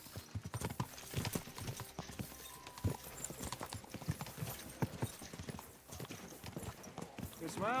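Horse hooves clip-clopping in Kingdom Come: Deliverance II, a close, rhythmic run of hoofbeats, with voices talking over them and a brief whinny near the end.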